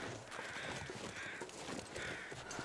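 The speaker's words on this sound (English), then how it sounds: "I hear crows, but I don't know why." Crows caw repeatedly at moderate distance in the wintry wilderness of the survival video game The Long Dark, rough calls recurring over steady ambient wind with no talking.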